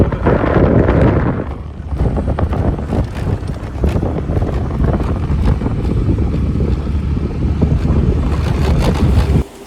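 Heavy, constant wind buffeting while riding a scooter along a broken road, with a rough low roar filling the whole stretch and no clear voices.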